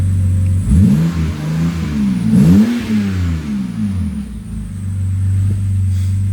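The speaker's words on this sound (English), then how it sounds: "this is what it sounds like with a muffler delete." A BMW E90 325i engine with a muffler delete idles with a deep, raw exhaust rumble, then revs up sharply twice before settling back to a loud, throaty idle.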